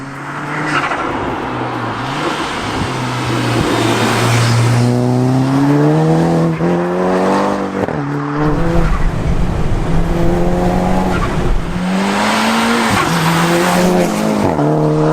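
High-powered show car driving hard nearby, its engine revving up and down through repeated rising and falling pulls while tires squeal and skid, loud throughout with no talk.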